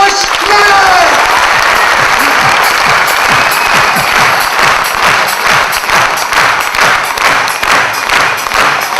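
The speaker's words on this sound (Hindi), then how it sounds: "मैं चाहूंगा जोरदार तालियों से उनका स्वागत की जाए।" An audience claps loudly and continuously to welcome trainer Santosh Nair onto the stage, the dense applause running the whole time beneath a brief musical tone at the start.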